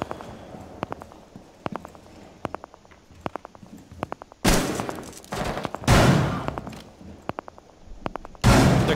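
Gunfire in Rainbow Six Siege on the Chalet map: bursts of loud automatic fire crack out in three heavy volleys, separated by quick sharp single shots and light footstep-like ticks.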